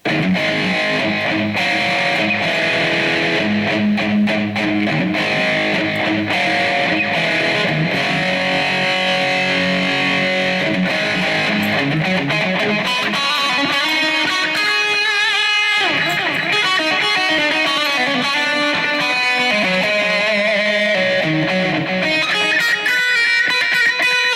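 A heavily distorted electric guitar through a BOSS eBand JS-10 plays a sustained, dense rhythm part with a reverberant wash, loud and continuous throughout.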